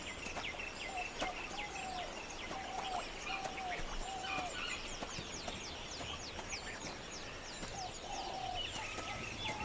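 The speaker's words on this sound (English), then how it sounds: "The local flock of peacocks is on edge too." A flock of peacocks calls in the Sri Lankan wild, repeated short wailing cries scattered over a dense chorus of other birds and insects, moderately distant throughout.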